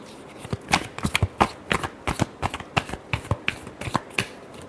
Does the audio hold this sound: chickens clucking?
no